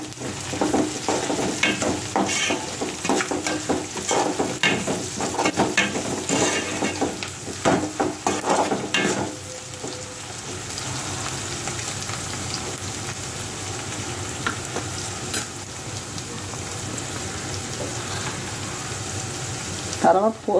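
Green chillies frying with onions in a pan give a steady, moderately loud sizzle, with brief clatters of stirring in the first half and a calmer, even hiss after.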